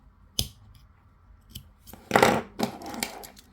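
Scissors snip through macrame bracelet cord in a quiet room: a single crisp click, then a few close, soft cutting crunches near the end; no talking.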